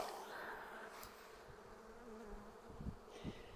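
Honey bees buzz steadily as a spring hive's frames are shaken into a plastic wash tub, a dense close hum with a few soft thumps near the end and no voices.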